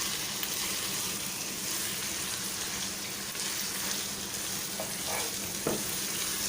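Mutton frying on medium flame in a pan for bhuna gosht, an even, close sizzle throughout with a couple of brief scraping stirs near the end, no one speaking.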